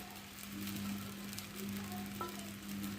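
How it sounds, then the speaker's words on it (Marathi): Sago pearls for sabudana khichdi sizzle steadily in a hot pan as they are stirred, a continuous crackling fry with soft scraping movements and a faint low hum underneath. "आता यात आपण साबुदाणा टाकणार आहोत मीठ आपण आधीच ॲड केलेले आहे अशा पद्धतीने साबुदाणा आपण टाकून घ्यायचा आहे"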